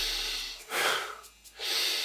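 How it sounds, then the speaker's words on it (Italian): A deep breath drawn in through the diaphragm, one long airy inhale followed by a breathy exhale, close and fairly loud, with no voices. "Se farete un respiro profondo, sentirete la pancia che si gonfia."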